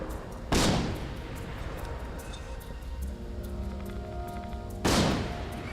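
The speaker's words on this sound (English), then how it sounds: "The cannon won't just continuously fire unless you feed it with more and more cannonballs." A cannon in Guild Wars 2 fires cannonballs in two sharp booming shots spaced about four seconds apart, each with a short decay over a steady background ambience of game sounds.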